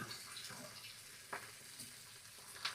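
Heck sausage frying in a pan for a breakfast sandwich, a faint continuous sizzle with occasional brief scraping or stirring touches, quiet and without speech.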